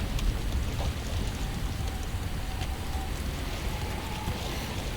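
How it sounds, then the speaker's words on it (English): Steady hail rattles down in the survival game Subnautica: Below Zero, a dense broadband patter with faint scattered ticks, continuous and fairly soft with no voices. "I feel like this hail's supposed to hurt."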